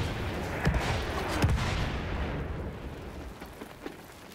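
Enemy artillery barrage in Battlefield 1: muffled, distant rumbling explosions with a few sharp cracks early on, fading into a low, fainter rumble toward the end.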